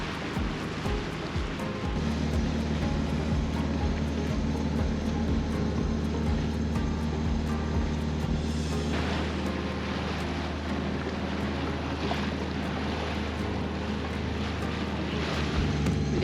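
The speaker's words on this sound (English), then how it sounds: "we're motor sailing, got the head sail out to give us a little more power" A sailboat motor sails across open water with its headsail out in 11 knots of wind, a steady engine hum under rushing wind and water for the full stretch, with no voices.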